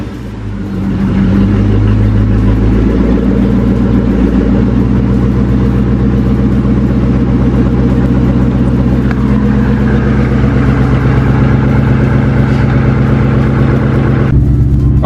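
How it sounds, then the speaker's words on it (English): A car engine cold-started inside a garage settles into a steady, loud idle with a deep low rumble that holds evenly throughout, no voices over it. "let's get that cold start inside the garage"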